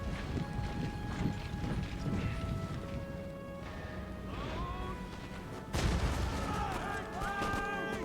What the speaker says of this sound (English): You've got artillery coming down.